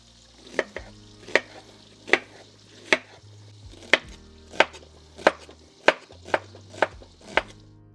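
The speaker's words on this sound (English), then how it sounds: "So let's get our onion chopped up. It's a nice sweet onion." A knife chops a sweet onion on a cutting board in a steady rhythm of about a dozen sharp, close thuds, with faint low cooking hum beneath and no talking.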